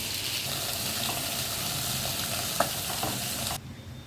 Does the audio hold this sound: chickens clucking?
no